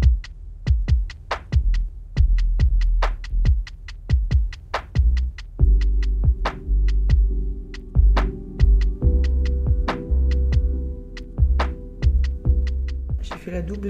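A sewing machine sews a double topstitch on a garment, with repeated rhythmic thumping bursts of stitching and a low motor hum. The bursts are close and fairly loud, and no one talks over them.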